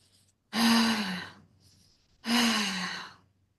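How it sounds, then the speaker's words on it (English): Two deep breaths drawn in through the nose and released audibly through the mouth, each a loud, close sighing exhale lasting about a second, separated by a short pause. "the fire breath is taking a deep breath through your nose and releasing through your mouth"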